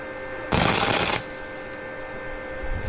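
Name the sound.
quick tack weld on an edging shovel with a welder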